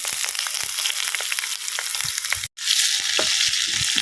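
Onions frying in a pan for a jackfruit erissery, with mustard seeds and rice already added: a steady, loud crackling sizzle with stirring scrapes throughout, briefly cut by a short gap of silence.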